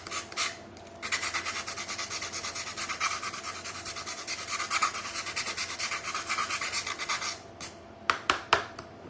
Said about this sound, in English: If I sand, will it work?